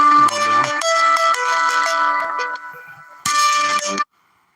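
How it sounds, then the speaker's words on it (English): A phone ringtone from an incoming call plays loud and alone, a bright chiming melody of repeated tones that pauses briefly, rings again, then stops abruptly. "Got a phone call I can't answer."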